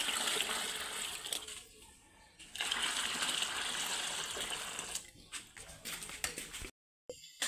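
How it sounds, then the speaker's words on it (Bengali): Hot and cold water is mixed and poured for cows, a continuous splashing gush with a few knocks that drops away briefly near the end before resuming. "গরম পানির সাথে ঠান্ডা পানিও মিক্স করে দিব।"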